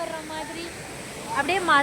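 Karumparai waterfall on Palkulam hill gives a steady, broad rushing roar close by, while voices talk over it toward the end.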